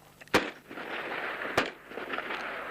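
Two sharp G3 rifle shots fired into the air crack a little over a second apart, fairly distant, each followed by a rolling echo over steady background noise.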